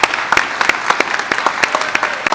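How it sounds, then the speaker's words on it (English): A short burst of applause from a modest crowd at a school board candidate forum, hands clapping in a dense, steady patter. "Could we give a round of applause to all the candidates, please?"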